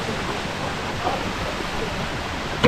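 A waterfall rushes in a steady, close, full-bodied roar of falling water, unbroken throughout with only a brief louder splash near the end.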